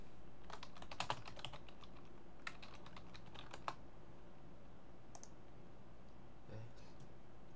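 Keystrokes on a computer keyboard, a scattered run of light clicks with a few sharper taps, close and fairly quiet, no talking.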